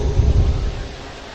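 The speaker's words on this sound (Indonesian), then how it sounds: "Iya tuh hujan gede kieu kuat." A heavy downpour hisses steadily while a low rumble of thunder rolls through, loud and close, with no voices over it.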